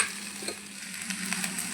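Potatoes frying in a pan for potato dum, a faint, short sizzle with light stirring scrapes and no voices.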